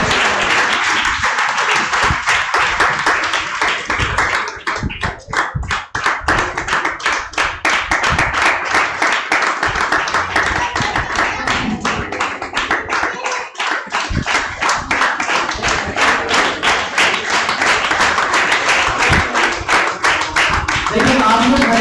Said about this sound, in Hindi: सभी लोग तालियां बजाते रहे सभी बच्चों के लिए।